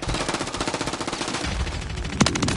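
Rapid automatic gunfire from a modern military first-person shooter game, Call of Duty Modern Warfare III, a steady loud burst of rhythmic shots with one sharper crack near the end.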